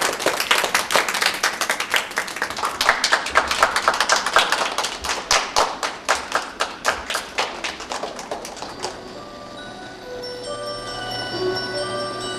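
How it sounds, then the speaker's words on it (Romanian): Steady clapping from a small audience at a talent show, brisk and even, runs for several seconds and then stops, leaving faint music behind. "Să aplaudăm!"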